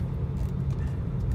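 A 2010 BMW 335i M Sport with the N54 engine at light throttle around 1,000 RPM on a small road, a low steady rumble heard from inside the car, calm and even.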